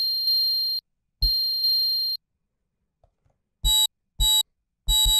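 A Korg Volca Drum synthesizer plays a randomized pattern of bright, pitched electronic tones over deep thumps, in two longer bursts, a near-silent gap, then three short punchy stabs.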